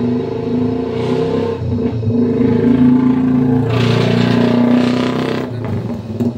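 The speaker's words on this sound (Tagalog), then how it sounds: "Ingay ng motor" A table fan motor under repair runs with a steady, loud humming drone and rattling undertone, rising briefly in intensity midway.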